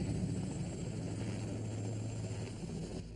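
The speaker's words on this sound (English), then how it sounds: "White chopper, blue stripes." A white helicopter with blue stripes drones steadily nearby, its low rotor and engine rumble holding even for the whole stretch without voices.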